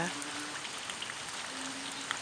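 Steady morning rain falls continuously over a wide area, a soft broadband hiss with scattered drop ticks, heavy and persistent, heard alone without talk.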